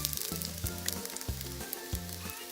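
Corned beef sizzles steadily in a pan while being stirred with garlic, the frying hiss broken by a few scraping thumps of the utensil.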